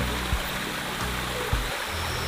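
Steady rushing water drains and trickles continuously at close range, a constant broadband wash with faint low thumps underneath.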